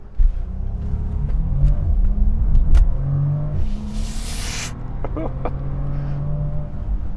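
A new Bentley Flying Spur accelerates hard from a standstill, its engine roaring and climbing in pitch through several gear changes, a steady heavy rumble filling the cabin with a brief whoosh midway.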